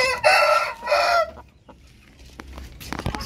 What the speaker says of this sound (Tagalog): Ito naman yung isa pang stag mga ka-sideline na ipapriming natin.